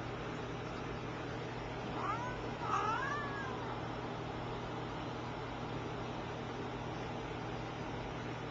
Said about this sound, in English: We know Avery, the growling cat